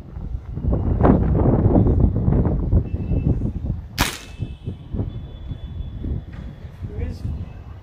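A single sharp rifle shot, fired at a target while zeroing the scope outdoors, cracks loudly midway through, with wind buffeting the microphone and someone talking before and after.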